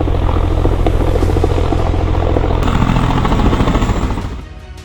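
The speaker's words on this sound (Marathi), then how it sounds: "सुषमा अंधारेंना घेण्यासाठी महाडमध्ये आलेलं हेलिकॉप्टर क्रॅश झालं" A helicopter at Mahad, the one that later crashed, roars nearby with loud, steady rotor chopping and engine drone. The sound drops off sharply near the end.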